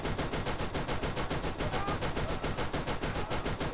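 Rapid automatic SMG combat rifle fire in Borderlands, a loud unbroken stream of sharp evenly spaced shots that continues for the whole stretch with no pause.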